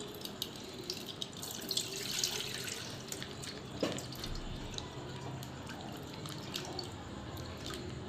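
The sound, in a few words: milk being poured into a pot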